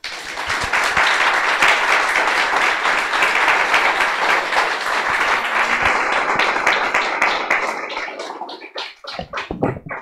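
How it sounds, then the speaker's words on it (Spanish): A church congregation applauding, sustained loud dense clapping that carries for most of the stretch, then thins into a handful of separate claps before fading out. "Espero que le den un fuerte aplauso al Señor."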